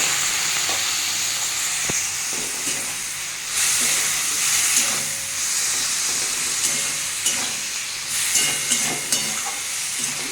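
Dry spice masala with cumin and salt sizzles and hisses steadily in a pan after a splash of water, with loud continuous frying steam and occasional stirring scrapes.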